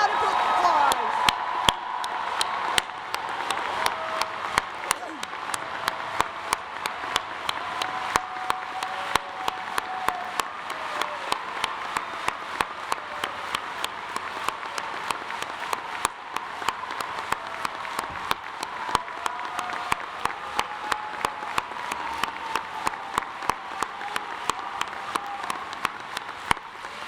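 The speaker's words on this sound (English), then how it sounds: "Everyone join me in giving these graduates one more round of applause" Graduates receive a round of applause at a School of Education and Environmental Sustainability commencement ceremony, sustained crowd clapping in a large hall with sharp individual claps standing out, steady throughout.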